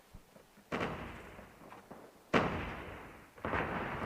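Grenade blasts in the mobile shooter game Call of Duty Mobile: three heavy booming explosions, each with a sudden onset and a decaying rumble, close and loud with no talking.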